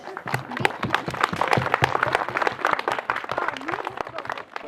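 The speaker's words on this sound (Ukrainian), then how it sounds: "Давайте може ми їх підтримуємо оплесками." An audience at a children's fairy-tale performance claps to support the actors, dense irregular handclaps close by with a few voices mixed in.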